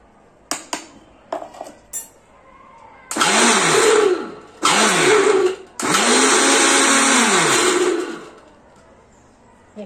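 An electric mixer grinder grinds raw mango chutney in three loud whirring bursts with pauses between them, each one spinning up and winding down, after some light clinks of the jar being handled.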